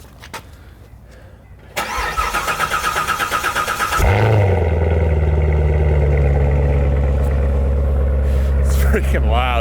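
A C7 Z06 Corvette with stock exhaust roars to life on a cold start: a starter whir, then a loud bark and a deep, steady high idle that rumbles on close and strong.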